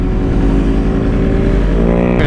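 A 2022 BMW S1000RR motorcycle engine revs loudly up close, a strong throaty roar with harmonics climbing as it accelerates near the end.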